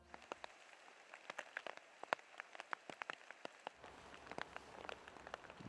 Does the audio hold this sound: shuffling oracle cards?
no